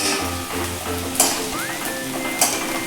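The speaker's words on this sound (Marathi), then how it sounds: "इथे आता आपला कांदा छान असा फ्राय होत आलेला आहे" Chopped onion fries in a pan for paneer masala, a loud continuous sizzle with two sharp clinks of a spatula scraping and stirring against the pan, no speech.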